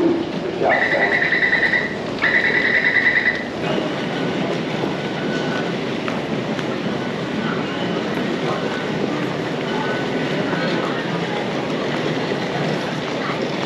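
A metro train on the line to Xiangshan rumbles and clatters steadily along the station platform, with a brief two-tone chime near the start, loud and continuous throughout.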